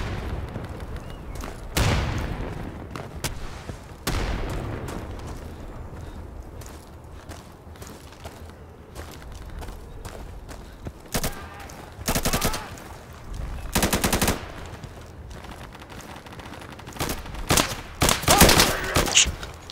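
Machine gun fire in the tactical shooter Insurgency, with scattered single shots and loud sustained bursts, some close and some distant, over a low rumbling battlefield background with faint voices.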